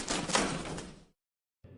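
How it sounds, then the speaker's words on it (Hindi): A cage door slams shut in an animated story about a parrot, with a loud rattling crash that cuts off abruptly into silence before a brief sound resumes. "रघु जब अमरूद खाने लगता है तो पिंजरे का दरवाजा बंद हो जाता है"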